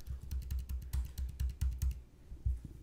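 Computer keyboard arrow keys tapped repeatedly at a close distance, a quick irregular run of sharp clicks that slows near the end, with no voices.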